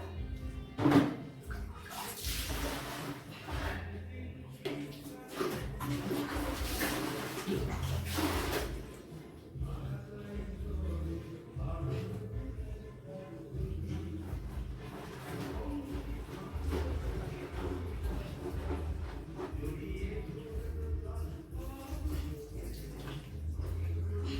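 Water running and splashing in a home bathroom during bathing, heard close up with shifting pours and gushes over about twenty seconds and occasional quieter lulls.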